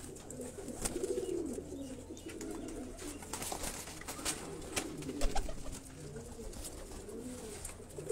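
Pigeons on a rooftop loft coo steadily in soft, overlapping calls, with faint rustling and distant background noise throughout.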